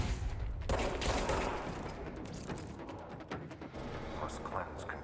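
Gunfire rattles in the video game Control, a dense, continuous spread of shots and impacts under layered game noise, fairly loud and close throughout.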